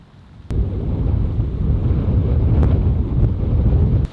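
A thunderstorm dumps heavy rain over a person near a bus on a flooded road, the downpour hitting as a loud, dense rushing roar that starts abruptly and holds steady, with a few sharp ticks of impacts.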